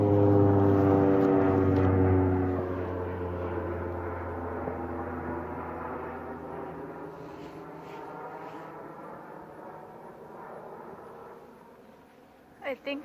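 A propeller airplane passes overhead on a hiking trail, its loud droning engine hum strongest at first and then slowly fading into the distance, with faint chatter and a couple of sharp sounds near the end.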